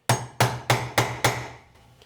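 Five sharp metallic hammer blows on a punch set into Triumph TR4 gearbox metal, close and evenly spaced about a quarter second apart, each ringing briefly before the last fades out.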